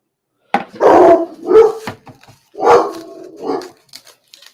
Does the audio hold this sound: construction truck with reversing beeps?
no